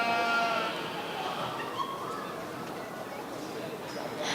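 Lambs bleat in a busy livestock show ring, a few overlapping calls riding over steady crowd murmur and indistinct voices nearby.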